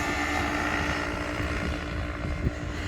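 A paratrike's engine and propeller roar steadily and loudly during takeoff, a dense continuous drone with a slight bump near the end and no speech.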